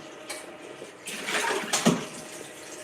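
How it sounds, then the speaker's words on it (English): Cold water runs from a tap in a home kitchen, starting with a soft trickle and then swelling into a fuller splashing stream, with a brief clunk near the end. "So now I'm getting some cold water"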